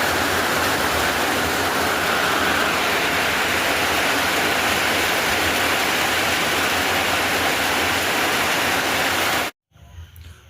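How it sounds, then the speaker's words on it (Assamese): Heavy rain pours steadily all night, a dense, even roar of falling water that fills the space close and loud before cutting off abruptly near the end. "গোটেই ৰাতিটো বৰষুণ দিছে"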